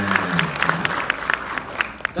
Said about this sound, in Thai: ปรบมือต้อนรับน้องใหม่หน่อยครับ